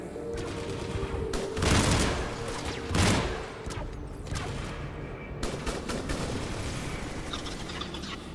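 Rapid automatic gunfire from the Typhoon weapon in the Mass Effect 3 video game, sounding in dense bursts over a busy combat mix, with two louder surges.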